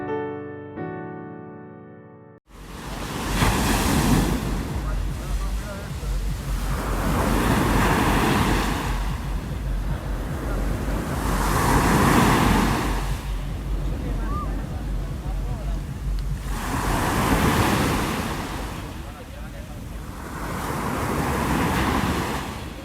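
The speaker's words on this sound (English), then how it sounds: "I've recorded the sound of some Mediterranean waves in Barcelona to get you started." Mediterranean sea waves breaking on the shore in Barcelona, rolling in as steady swells every four to five seconds with wind noise, after a brief tonal lead-in.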